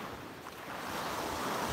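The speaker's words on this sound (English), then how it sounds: "soak in the sounds of the waves" Ocean waves break and wash onto a beach at sunrise, a steady broadband surf roar that swells slightly louder toward the end, with some wind noise and no voices.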